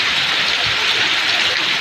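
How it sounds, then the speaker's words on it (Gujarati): Heavy monsoon rain pours down as the first sowing rain of the season, a dense, steady, close hiss that does not let up. "ચાલો વરસાદ આવ્યો"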